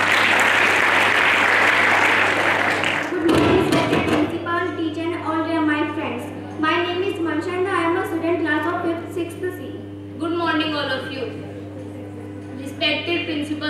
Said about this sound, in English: So give a big round of applause for them.